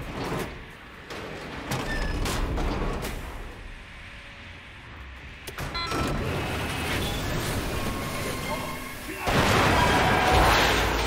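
Heavy booms and rumbling blasts of explosions in Wolfenstein: The New Order, loud and repeated across the passage, mixed with game sound effects and character voices talking.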